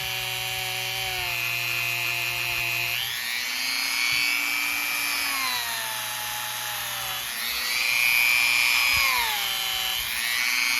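A polishing machine buffs a steel watch case back with coarse compound, a steady close motor whine and rubbing hum whose pitch rises and falls in smooth sweeps as pressure changes.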